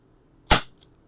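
A single sharp CO2 revolver shot cracks out close and loud, followed by a faint short click, with no talking.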